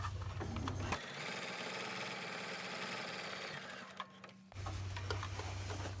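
A sewing machine stitching across the tucked-in top of a fabric rice heating bag, a close, steady rapid whirring run of about three and a half seconds, with lower machine hum before and after.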